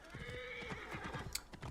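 A horse in Assassin's Creed Origins gallops steadily, its rapid rhythmic hoofbeats carrying through the short stretch with a whinny-like tone over them, fairly close and moderately loud, with no talking.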